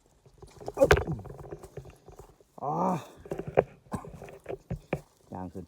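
Cattle and buffalo walk along a misty path in the early morning, their hooves making close, irregular knocks and clops. A brief voiced call or voice sounds among the steps.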